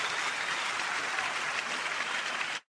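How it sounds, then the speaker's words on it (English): A burst of applause plays in a movie review, a bright dense clapping wash at even volume that cuts off abruptly near the end, like an inserted sound effect. "applause there"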